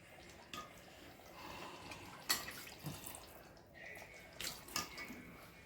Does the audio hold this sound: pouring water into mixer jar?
yes